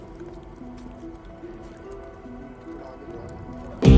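A mountain stone is lowered into a temple pool and lands with one sudden, loud splash at the very end, after several seconds of quiet, low background hum.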